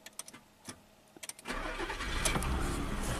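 A Ford Probe engine with a bad starter: a few sharp, sparse clicks and knocks, then the engine cranks and catches into a steady, loud running roar nearby.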